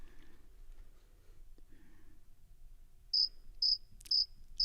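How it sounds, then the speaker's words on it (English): A cricket chirping cue plays during a sports talk podcast: after a near-silent stretch, four crisp, evenly spaced chirps sound clearly and alone. "Can we get a crickets, just like audio cue right?"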